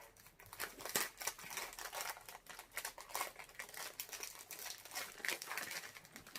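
A plastic bag from a diamond painting kit crinkles and rustles continuously near the listener as it is handled and opened, with uneven crackling bursts throughout.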